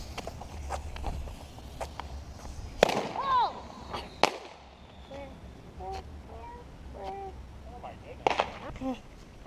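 Fireworks for the Fourth of July go off after their fuses are lit: a few sharp bangs with crackling and whistling bursts spaced several seconds apart, fairly close, over steady outdoor background noise and occasional voices.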